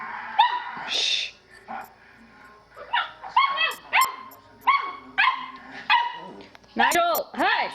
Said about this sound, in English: Okay, I gotta train him not to bark so much.